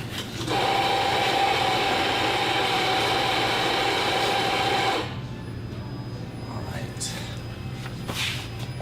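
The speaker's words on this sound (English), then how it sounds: "So I'm going to come over here to my Anfim grinder." An Anfim coffee grinder grinds espresso beans with a loud, steady mechanical whir lasting about five seconds, then cuts off, leaving faint room noise and light handling clicks.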